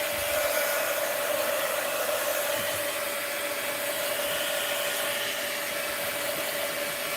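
A hair dryer blows steadily and evenly, drying paint in a mixed-media art journal, with a constant close whirring hum and no talk.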